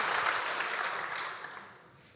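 Audience applause for a newly graduated criminology student who took first place, a dense wash of clapping that fades steadily over about two seconds, with no one talking over it.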